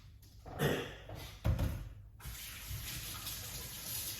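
Tap water running for washing food in a kitchen sink, a close steady splashing rush with a couple of louder bursts early on before settling into an even flow.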